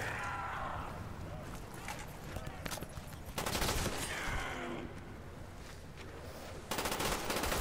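Rapid automatic gunfire from Call of Duty Black Ops zombies gameplay on the Call of the Dead map, with loud bursts and sustained fusillades that stop and start.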